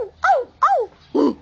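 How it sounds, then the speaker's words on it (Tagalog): A chained dog barks and yelps three times in quick succession, each a sharp, fairly close call with short pauses between, standing alone without talk. "Ayun yung aso si Patching."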